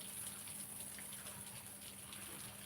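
Water from watering a garden in the wee hours pours in a steady, unbroken gush, a constant moderately loud hiss with a faint low hum underneath and no voices.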